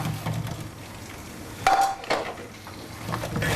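Chicken being mixed with a spice masala in a bowl, giving soft scraping and clinking of utensil against the dish, with a few louder knocks amid faint kitchen background.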